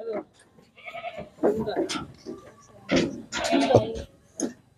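A goat bleats a few times nearby at a Qurbani livestock gathering, short nasal cries mixed in with people talking and background crowd noise.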